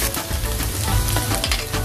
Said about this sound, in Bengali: আমার আদা বাটা রসুন বাটা ভাজা হয়ে গেছে